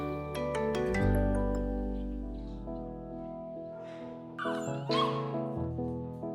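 Puppies in a vet barn at a horse shelter bark and whimper through a steady stretch of mixed, close-up yelps and whines, with a few sharper yips breaking through toward the end.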